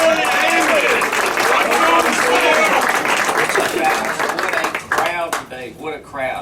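A radio show audience breaks into loud, sustained applause and clapping, with crowd voices and cheers mixed in before the clapping thins and fades toward the end.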